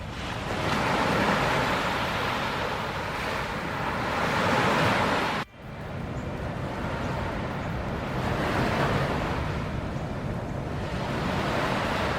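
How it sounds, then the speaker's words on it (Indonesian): Ocean waves roll onto Loch Nga beach in Indonesia, a loud continuous wash of surf with wind noise across the microphone and a brief dip partway through. "Ombak di Pantai Loch Nga ini bisa dibilang top 10 terbaik ya di Indonesia"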